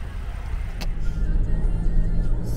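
A car pulling away to drive off, its low engine rumble rising steadily as it accelerates, heard from inside the cabin with a brief click partway through.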